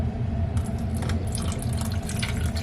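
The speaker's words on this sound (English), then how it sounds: "so open that up, pour my water in." Water poured into the rear water canister of a hotel-room coffee machine, a close, continuous splashing fill with a steady liquid rush.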